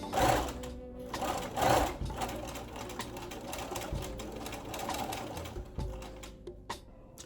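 A sewing machine runs in steady bursts while stitching a two-piece pants yoke, the close mechanical whir pausing briefly between runs and stopping near the end.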